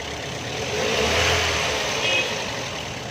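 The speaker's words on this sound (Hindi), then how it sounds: "हल्की हल्की रेस दो।" A car engine, a Fiat with a problem of slowing down when overtaking, is revved lightly with the bonnet open, a steady mid-pitched hum rising gently twice before settling, close by with no talk.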